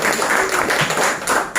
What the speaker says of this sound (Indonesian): tepuk tangan ya buat yang di Samarinda ya